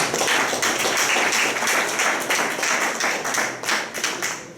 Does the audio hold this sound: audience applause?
yes